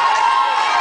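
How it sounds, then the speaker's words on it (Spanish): Cheering audience at a concert in Barcelona, a dense, loud wash of crowd noise and shouts filling the moment without pause. "Aplausos a toda la gente que estuvo aquí, de toda la cita."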